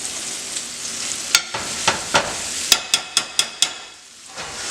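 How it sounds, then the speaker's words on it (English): Shrimp cooking lightly in a pan for shrimp fettuccine, a gentle steady sizzle under a series of crisp clicks and taps from a utensil against the pan, several in quick succession. "You just want to cook the shrimp very lightly."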